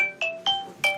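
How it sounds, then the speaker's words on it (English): A phone rings with an incoming call, three short electronic ring bursts in quick succession, close and fairly loud, with no talking. "Sorry, phone call from Paul."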